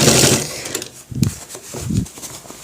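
A sewing machine stitches a pant belt with grip in short close bursts, with a loud run at the start, then choppy stop-start stitching broken by fabric handling.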